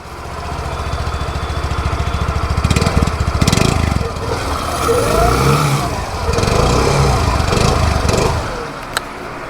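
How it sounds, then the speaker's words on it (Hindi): A 2023 Suzuki Burgman Street 125cc scooter engine runs loud and close, revving up and settling back in repeated surges with a buzzy exhaust note. "तो ये था 125 सीसी स्कूटर का एग्जॉस्ट और इंजन साउंड।"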